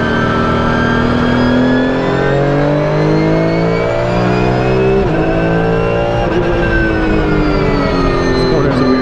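Porsche 992 GT3 Cup race car engine on a track, a loud close high-revving howl with rising pitch through the gears and quick shift drops, continuous throughout.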